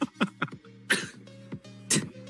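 A series of short, sharp coughs bursts out close to the microphone, several quick hacks in a row followed by two heavier coughs spaced apart, heard alone at an esports match commentary desk.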